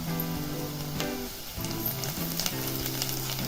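Sliced onions sizzling in a pan with chili powder for a banana-flower vegetable dish: a dense, steady crackle close by, broken by a few stirring scrapes, with a faint tonal hum in the background.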